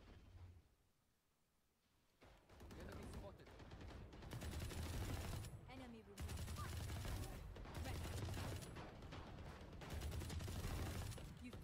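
Valorant gunfire during a closed-beta match: after a quiet opening, rapid bursts of shots ring out close and loud in clustered volleys, with a player's voice talking over the action.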